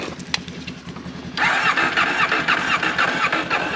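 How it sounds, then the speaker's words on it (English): A motorcycle engine is cranked on a cold Montana morning: a brief click, then a steady rapid churning grind of the starter that goes on without the engine catching, loud and close. "see if the bike starts"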